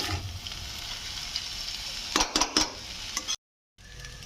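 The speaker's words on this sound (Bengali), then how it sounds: "আর এরপরে একটু সয়া সস দিয়ে দেবো। দিয়ে এটা পুরোটা ফ্রাই করে নেব।" Vegetables fry with soy sauce in a pan, giving a steady sizzle with a few sharp utensil scrapes and clinks near the end before sudden silence.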